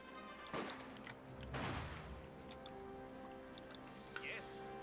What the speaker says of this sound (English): Shots fly, gets another hit into the Volksgrenadier squad inside